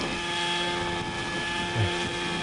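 Autonomous helicopter flying under a reinforcement-learning controller over a football field at Stanford, a steady droning rotor and engine hum with a sustained tone that holds level throughout, fairly close.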